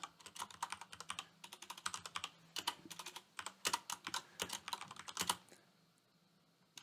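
Quick, crisp keystrokes on a computer keyboard in uneven bursts, close and clear, trailing off into quiet near the end.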